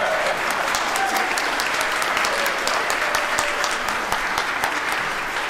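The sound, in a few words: congregation applauding and cheering for Ghlee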